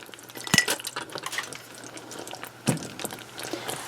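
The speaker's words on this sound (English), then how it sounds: "So in goes pecans, or whatever nuts you want to use." Pecans poured into hot candy syrup in a pot at 245 degrees: a clattering, splashing tumble of nuts with a sharp first hit, then scattered clinks and stirring scrapes against the pot, close and fairly loud.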